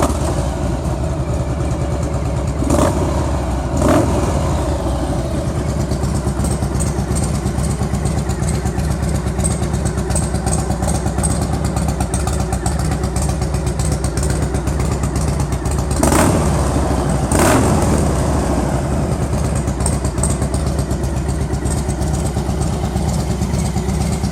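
A 2001 Harley-Davidson Night Train motorcycle engine rumbles steadily at idle, close and loud, with a few brief revs blipping above the constant low drone.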